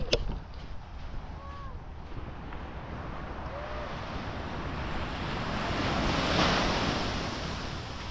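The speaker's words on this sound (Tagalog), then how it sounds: "I know, the waves are here." Ocean surf at Monterey beach, a steady broad wash of breaking waves with wind buffeting the microphone, swelling louder toward the end, with no talk over it.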